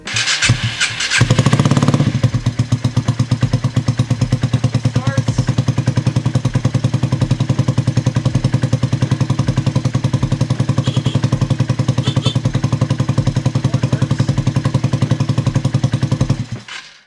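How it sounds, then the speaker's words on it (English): A Honda Ruckus scooter engine cranks briefly and catches, then settles into a loud, fast, steady idle with a rapid putter that runs on evenly for many seconds before cutting off at the end. "Now, the real question, will it start?"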